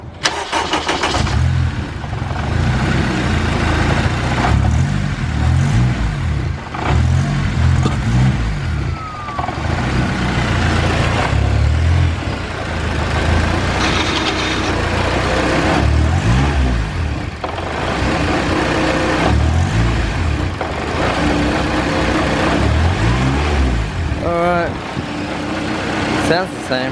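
A car engine runs steadily at close range with repeated revving swells and mechanical whine from a suspected gearbox fault, while people talk intermittently over it.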